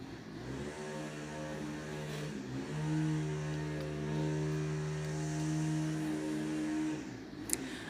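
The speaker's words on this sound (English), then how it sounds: "Sorry if y'all hear the noise because ellos están cortando el césped" Outside, a lawn mower engine drones steadily at a moderate distance, holding a constant hum with slight shifts in pitch and no speech over it.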